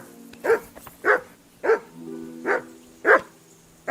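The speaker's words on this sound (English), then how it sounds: "Call off that mutt of yours!" A dog barks in the Kingdom Come Deliverance 2 video game, six evenly spaced barks at close range with short pauses between them.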